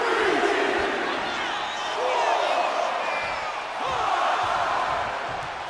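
An arena crowd in the WWE 2K25 wrestling game roars and cheers continuously during a last man standing match, a dense swelling wall of voices that rises and falls over the whole stretch, with commentary speech on top.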